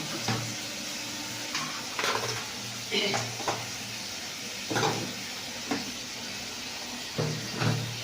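Food cooking in a pan is stirred in slow, spaced strokes, each a soft scrape or clatter every second or so over a faint background sizzle, close by with no voices.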